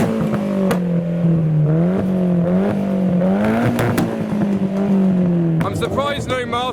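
Turbocharged Nissan S13 engine revving at a loud rev battle, its pitch rising and falling steadily and close by, with other engines and crowd noise around it and a sharp burst near the end.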